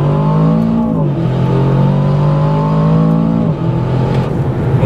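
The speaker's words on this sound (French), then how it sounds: "On entend le souffle du turbo." An Aston Martin engine revs hard with a rising turbocharger whoosh that shifts pitch twice as it accelerates, loud and close with no talking.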